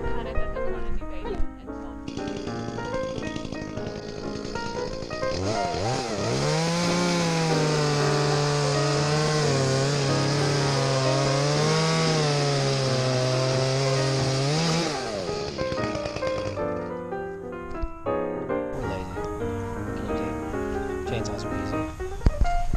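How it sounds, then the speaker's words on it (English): Chainsaw cutting a Christmas tree on a tree farm, the engine revving up and holding a loud, wavering buzz for about ten seconds before dropping back to idle, with a dog barking and people talking around it. "Chainsaws are easy."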